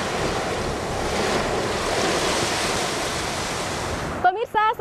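Ocean surf rolls steadily onto a west coast beach in North Sumatra, a loud continuous wash of breaking waves with wind buffeting the microphone, and a brief voice appears at the very end.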